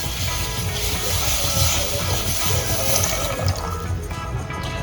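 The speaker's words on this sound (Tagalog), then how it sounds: "Now we add 4 cups of water." Water pours steadily into a cooking pot as stock is made for Filipino almondigas (meatball soup), a continuous splashing gush lasting throughout at close range with no talk.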